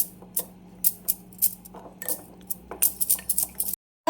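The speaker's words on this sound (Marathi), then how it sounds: "कस्तुरी मेथी टाकायची आहे आपल्याला सगळे मिक्स करायचे आता" A utensil mixes chickpea curry with kasuri methi in a pan, a close run of sharp metallic scrapes and clinks in uneven rhythm for several seconds before a brief cutoff, with no speech.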